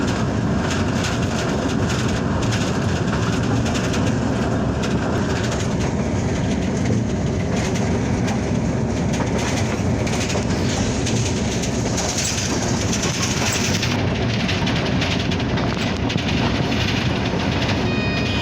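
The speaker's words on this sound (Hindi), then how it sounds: "शोरकोट हज़ारा एक्सप्रेस इन हो रही है।" Loud rumbling Hazara Express train pulling into Shorkot railway station, with steady rolling clatter and a rising whine of brakes and machinery, sustained throughout without voices.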